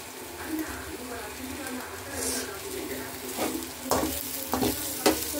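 Egg fry sizzling and frying in a pan with chilli powder, a steady close crackle with occasional stirring scrapes and knocks.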